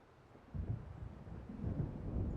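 Rolling thunder from an approaching storm in the game Alan Wake, a low, faint rumble that swells after a quiet start and keeps grumbling in the distance, with no voices.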